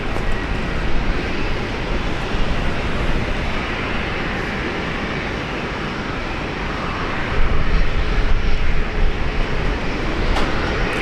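Steady broadband jet roar from an airplane at Brisbane International Airport, loud and continuous for the whole stretch, swelling slightly toward the end with a dense rumbling low end, no voices.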